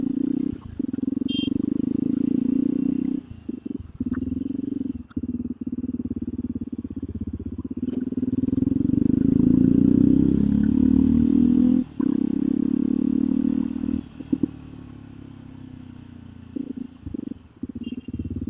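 A Yamaha R15 motorcycle riding past with gear shifts, a loud steady engine drone that rises and falls, broken by several short dips as the rider changes gear.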